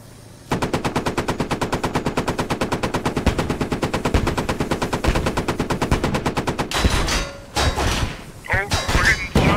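Automatic gunfire in the video game Squad, a long rapid burst of close, loud shots followed by scattered heavier impacts and explosions, with players talking over the action.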